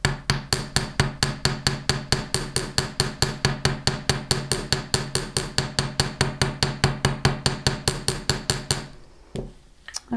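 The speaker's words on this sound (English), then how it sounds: "I'm going to start with the domed side of the chasing hammer" Chasing hammer pounding metal wire to flatten a tendril, its domed face landing in a long, fast, steady run of sharp metallic taps up close before stopping near the end.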